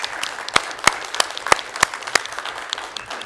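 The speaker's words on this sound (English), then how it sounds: "But Phoebe deserves a huge round of applause because she does this twice a year." A small audience at a school board budget meeting gives light applause, a few people clapping in close, irregular, sharp claps that fade within seconds.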